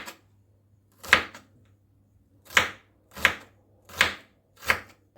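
A knife slices an onion into thin vertical strips on a cutting board, five crisp separate chops with pauses between them, close and clear with no talking.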